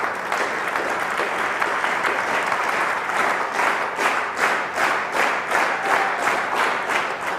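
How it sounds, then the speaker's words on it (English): An audience at a lecture on the National Ignition Facility claps, starting as a loose scatter of applause that gradually locks into loud, rhythmic, synchronized clapping with evenly spaced beats. "when I say clap together, which I mean synchronously, just clap together"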